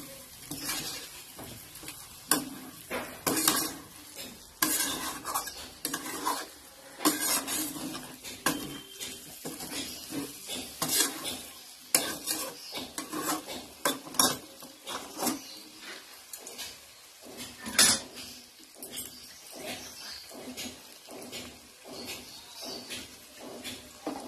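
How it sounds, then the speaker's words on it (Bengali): A utensil scrapes and knocks against a pan as chicken kosha is stirred with spices and garam masala, with irregular rubbing strokes and clinks, close-up and fairly quiet, continuing throughout. "দিয়ে একটু ভালো করে এটাকে কড়ার মতো কষবে থাকবে।"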